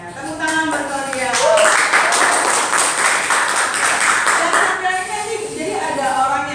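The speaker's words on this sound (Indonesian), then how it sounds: "Tepuk tangan buat Claudia." Applause for Claudia during a teacher training session, a burst of hand clapping that swells and holds for several seconds, moderately close, with voices talking over its start and end.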